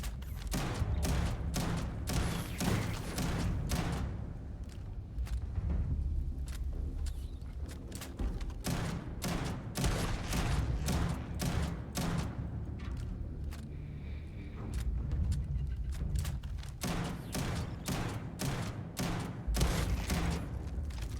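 Rapid, steady gunfire from a weapon in the space game Starfield, with many sharp shots repeating close and loud over a low rumbling backdrop for the whole stretch.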